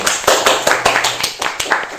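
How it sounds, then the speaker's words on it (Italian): A small studio audience on an Italian Taskmaster-style game show claps in steady, close, sharp bursts, with no voices over it. "Un applauso ad Edoardo"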